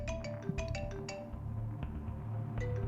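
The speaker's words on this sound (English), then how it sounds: "our scene opens with the sound of a ringing cell phone" A cell phone ringtone chimes in short repeated electronic bursts, fairly clear against a low background hum, with no voices.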